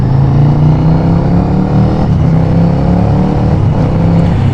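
A Ducati Scrambler motorcycle with a Competition Works exhaust revs steadily at close range, its exhaust rumbling loud and continuous throughout with a deep throaty tone.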